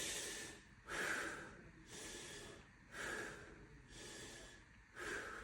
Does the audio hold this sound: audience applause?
no